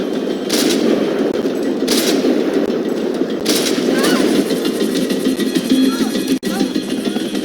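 Rifle gunfire in the Max Payne 3 video game: bursts of shots crackle in clusters over a constant roar of engine and wind noise, with a voice talking throughout.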